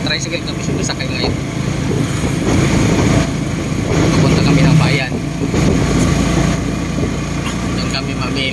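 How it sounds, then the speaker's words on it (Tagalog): A motor tricycle engine runs steadily while riding toward town, a low continuous rumble with road noise beneath someone talking throughout. "Tricycle kami sumasakay ngayon."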